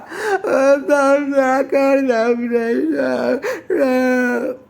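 A cartoon child cries in loud, drawn-out wails broken by short sobbing catches, with no other sound around it.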